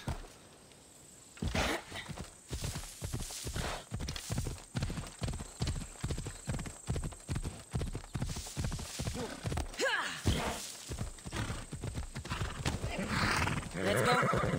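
A horse in a video game gallops with a fast, rhythmic clip-clop of hooves and neighs loudly, the hoofbeats quickening after a brief pause and continuing close and prominent to the end.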